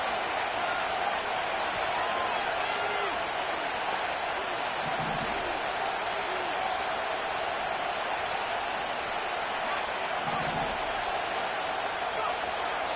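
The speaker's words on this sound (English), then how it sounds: "this crowd is making an impact right now" Steady broad roar of a football stadium crowd during a Green Bay Packers third down against the Saints, a continuous wash of distant cheering and noise with no clear breaks.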